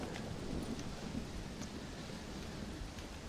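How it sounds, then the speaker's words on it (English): Steady heavy rain from a thunderstorm, a dense continuous hiss with faint low rumble beneath, no voices. "Well, it's just the storm, John."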